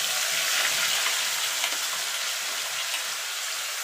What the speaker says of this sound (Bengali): ফোড়নটা একটুখানি ভাজা ভাজা করে নেব